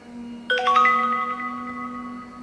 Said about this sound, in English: Hear that? It's the tone.